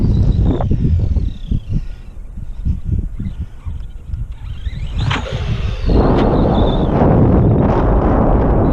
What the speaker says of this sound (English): Freaking wind.